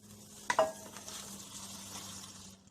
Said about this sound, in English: we're going to put the butter. Let's melt it.